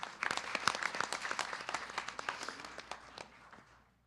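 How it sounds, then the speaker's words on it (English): Scattered applause from a modest crowd at a Sunday temple gathering, individual claps audible, fairly faint and tapering off toward the end. "Let's give a round of applause to these students,"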